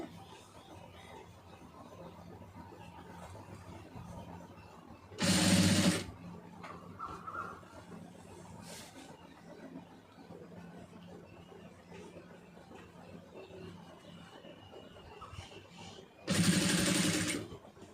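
A domestic sewing machine stitches fabric piping in two short bursts of about a second each, one early and one near the end, loud and close against a quiet room.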